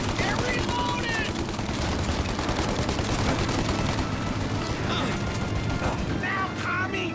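Sustained gunfire from a shootout in the Mafia Definitive Edition video game, dense overlapping shots and bursts continuing for several seconds, with shouting voices mixed in.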